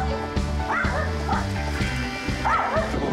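Several dogs kept in a cage bark in short, repeated yips while high whimpers and whines rise between them, close and continuous, with voices faintly mixed underneath.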